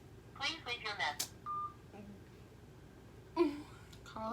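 A phone places a call and gives off short dialing and ringing tones between bursts of nearby talking and a faint tone near the end.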